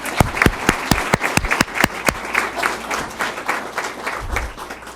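Applause from attendees at a school board of education meeting, with several sharp, distinct claps up front over a steady bed of crowd clapping that carries on through the clip, fairly close and moderately loud.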